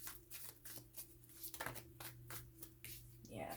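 Tarot cards being shuffled in a quick, soft riffling rhythm, close and faint, with a low steady hum beneath.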